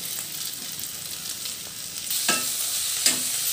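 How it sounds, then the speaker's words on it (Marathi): Okra drops into a hot pan for a Marathi village-style okra curry, bringing a steady sizzle with a couple of stirring scrapes, close and moderately loud. "आता भेंडी टाकून घेऊया।"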